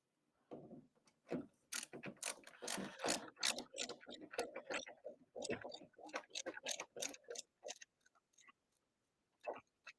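Screws being driven by hand into an arcade cabinet during assembly, heard as close, irregular bursts of clicking and grinding ratchet-like mechanical sounds with brief pauses, tapering off near the end.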